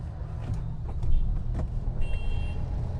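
Road traffic around a Mahindra Thar driving in monsoon rain in Hinjewadi, Pune: a steady low engine and road rumble inside the vehicle, with faint passing vehicle sounds and soft knocks, no talk.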